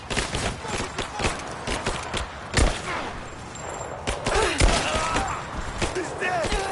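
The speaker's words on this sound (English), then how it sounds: "Give me suppressing fire!" Heavy suppressing gunfire in a Rise of the Tomb Raider firefight, with dense rapid shots and irregular bursts close by that continue throughout, and voices shouting over the shooting.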